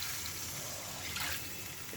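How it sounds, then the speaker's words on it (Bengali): Water poured into a pan of frying lentil fritter curry, a steady broadband trickle and splash throughout, close and moderately loud with no talk. "এবার জল দিয়ে দেবো, কষা হয়ে গেছে।"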